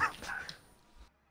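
A man imitates a dog's barking and yelping with his voice, a short burst of rough, close vocal barks that trail off into quiet, over a game setting.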